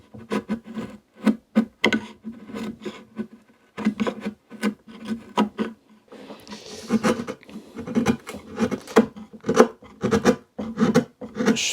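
A wood chisel scrapes dried glue from the inside of a wooden tenon joint being repaired with epoxy, giving short rasping strokes in an irregular rhythm, close and moderately loud, with no talking.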